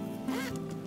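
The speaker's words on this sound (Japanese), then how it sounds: "ファスナーがきちんといかないですね" A zipper pulled on a small handmade sewn mini pouch, one short close zip lasting under a second, with no talking.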